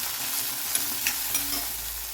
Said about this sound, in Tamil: போட்டு நல்லா வதக்கி விட்டுக்கோங்க